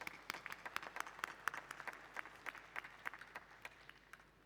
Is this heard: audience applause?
yes